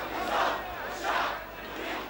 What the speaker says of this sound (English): the crowd had grown to several thousand